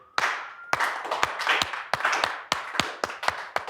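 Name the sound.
audience slow clap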